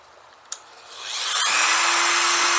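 A power tool cutting through a metal socket: a sharp click, then a rising grinding whine that builds to a loud, steady high-pitched cut, close up with no talking.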